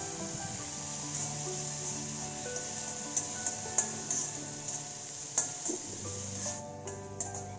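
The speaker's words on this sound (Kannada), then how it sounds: "ಈಗ ಬೆಳ್ಳುಳ್ಳಿ ಹಾಕಿದ್ದಾದಮೇಲೆ ನಾನು 1 ಈರುಳ್ಳಿ ಸಣ್ಣಕ್ಕೆ ಹೆಚ್ಚಿಟ್ಕೊಂಡಿರೋದನ್ನು ಸೇರಿಸ್ಕೊಳ್ತಾ ಇದ್ದೀನಿ" Chopped onion added to garlic sizzling in a pan for a radish leaf stir-fry, a steady close frying hiss with scattered soft stirring taps and scrapes toward the end, no voices.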